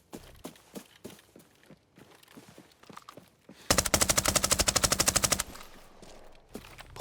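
Rapid MP5 submachine gun burst in the shooter game Arena Breakout, a loud sustained automatic volley of about a second and a half, between footsteps and scattered single shots.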